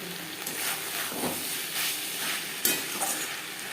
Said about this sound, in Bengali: মশলার সাথে আলু দু তিন মিনিট নাড়াচাড়া করে নেওয়ার পর দিয়ে দিলাম কয়েক কোয়া রসুন